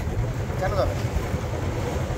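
A trawler boat engine drones low and steady with wind buffeting the microphone and a brief faint voice-like sound in the middle.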